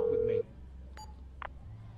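A steady electronic phone tone inside the video game Grand Theft Auto V cuts off abruptly, followed by a couple of brief faint beeps over a low game background.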